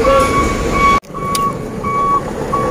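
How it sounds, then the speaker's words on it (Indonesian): A heavy tronton truck reverses nearby, its electronic warning beeper sounding in loud, regular tones over engine rumble, with a brief cut and continued beeping afterward in a busy harbor setting. "Ini buat truk tronton."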